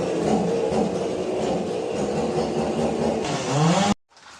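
A fully loaded car heading off to a Konkan village for Ganesh Chaturthi, its engine droning steadily and close, rising slightly near the end before cutting off abruptly.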